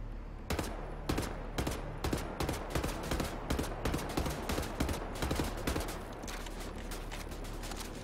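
Repeated gunshots in the shooter Wolfenstein: The New Order, sharp cracks fired in quick irregular bursts over several seconds at moderate loudness, with a low steady hum beneath.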